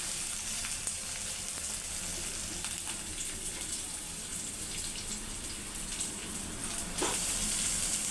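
Onion and tomato fry in a pan with a low, steady sizzle close by, broken by a few faint clinks.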